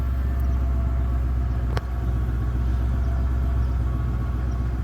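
A 2000 Lincoln Cartier with dual exhaust idles after a cold start, a smooth, steady low rumble held close and even, with one brief click partway through.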